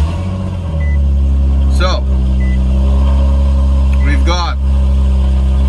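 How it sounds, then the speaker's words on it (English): A Nissan 370Z engine runs at a steady, low idle throughout, its deep hum constant and close while someone talks over it for much of the time. "We'll start the car."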